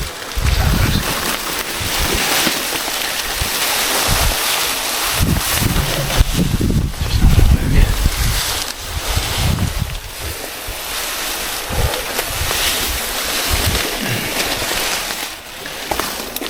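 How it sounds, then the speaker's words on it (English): Strong wind buffets a microphone on an open New Zealand mountainside during a bow hunt, roaring steadily for the whole stretch with low gusty rumbles and surges, loud and close, with no talk. "The wind is going directly up my bum"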